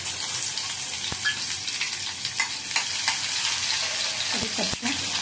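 Onion and mustard seeds with cumin sizzle loudly in hot oil for a dragon stalk yam dish, a steady dense crackle with a few stirring knocks near the end.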